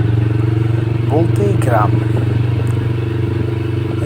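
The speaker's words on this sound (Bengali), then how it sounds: "এই যে বাইক চালাচ্ছি, কোনো গাড়ির সাউন্ড নেই, আমার বাইকের সাউন্ড খুব অস্থির লাগে।" A motorcycle ridden along a village road holds a steady, close engine drone throughout, with a brief voice speaking over it.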